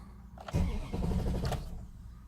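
A 2000 Dodge Durango 5.9 with a no-bus fault cranks without starting: a short burst of rapid starter chugging that stops after about a second, close and fairly loud.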